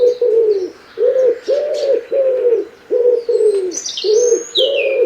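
A common wood pigeon (Columba palumbus) coos in a close, clear series of about eight soft, hollow phrases with short gaps between them, and faint chirps from other birds sound in the background.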